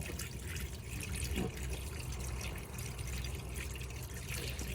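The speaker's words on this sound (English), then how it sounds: "So the cold water came through nice and, you know, nice and clear, no sort of coughing and spluttering all over the place." Cold water running steadily from a tap in a caravan, a continuous close splashing flow without sputtering, with the water pump running, heard alone with no talking.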